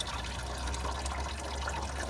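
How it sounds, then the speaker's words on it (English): Coolant gushing out of a Honda Integra's cooling system during a flush, a steady, close, continuous watery rush for about two seconds with no talking. "This, everybody, is a coolant flush."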